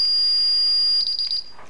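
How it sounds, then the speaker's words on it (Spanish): A Paradox alarm triggered as a remote panic emergency alarm emits a loud, piercing continuous electronic tone that holds steady, then falters into short pulsing bursts before cutting off, close and without talk. "pulsamos los dos a la vez. Y alarma, suena alarma pánico, emergencia"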